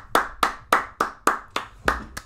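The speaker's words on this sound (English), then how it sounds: "Let me get a standing applause." Eight evenly spaced, close hand claps from one person in a steady rhythm, each sharp and loud against a quiet background.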